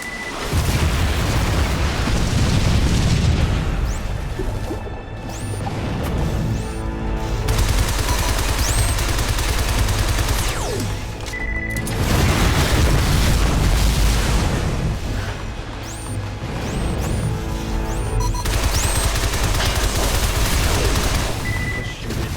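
Continuous loud gunfire and repeated explosions in the side-scrolling action game Shadow Complex, dense booming blasts and rapid shots rolling on for over twenty seconds with brief dips, no talking.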